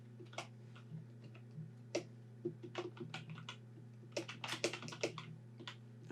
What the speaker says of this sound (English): That's a loud keyboard.